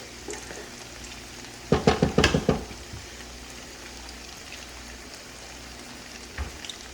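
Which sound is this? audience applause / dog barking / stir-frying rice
stir-frying rice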